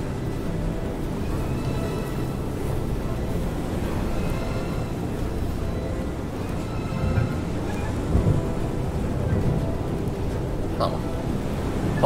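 A thunderstorm at sea in the game FAR: Changing Tides, with a steady heavy rumble of wind, waves and rain that stays loud and dense throughout, with a few sharper bumps near the end.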